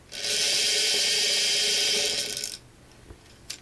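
A battery-powered vacuum cleaner motor, wired to run in reverse, whirs with a loud, high-pitched whine for about two seconds. It then winds down and stops, leaving a few faint clicks.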